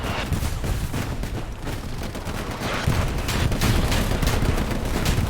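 Heavy gunfire and explosive booms roll continuously in the World War II game Hell Let Loose, where a Luchs light tank fires its gun amid dense battle noise, loud and sustained, swelling louder in the second half.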